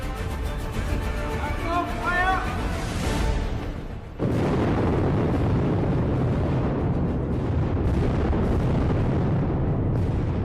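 An explosion from tunnel blasting in bedrock bursts out suddenly after a fading horn tone, followed by a sustained, loud, rumbling roar of debris that carries on for several seconds.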